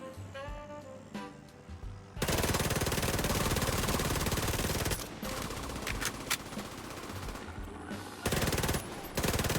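The player's gun firing in The Division 2, rapid automatic bursts that open after a quiet start, loud and sustained, with short pauses between long sprays and a final burst at the end.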